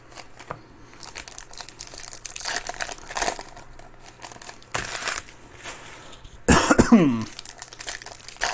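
A person coughs a few times with a hoarse, lingering cough from a two-month illness, close to the mic in a quiet room, with crinkling and rustling of card wrappers around it.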